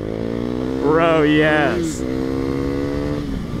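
A 2019 Husqvarna Vitpilen 401 motorcycle, lightly used, revs hard while being ridden: a rising, climbing engine whine swells for about a second, then settles to a steady drone, with brief spoken words from the rider.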